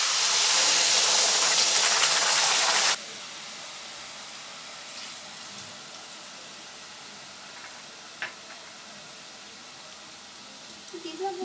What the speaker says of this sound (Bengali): কড়াইতে জল দিয়ে ফুটতে দেবো।